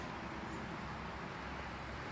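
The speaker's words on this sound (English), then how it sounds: "We hear the traffic" Steady, faint roadway traffic noise from passing vehicles in Moultonborough, New Hampshire, a continuous broadband hum with no distinct events, heard outdoors during a September 11th remembrance gathering.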